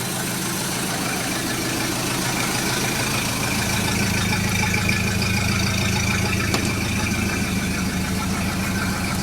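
A 1930 Ford Model A Tudor engine idles steadily up close, a continuous low, even rumble with a faint rhythmic pulse and no voices.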